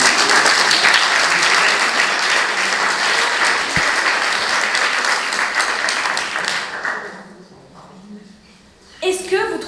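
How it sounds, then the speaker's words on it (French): Sustained audience applause fills a school eloquence contest hall at a middle school, dense and steady for several seconds before fading into scattered claps and a few murmurs, then a brief final burst. "n'hésitez pas à l'applaudir"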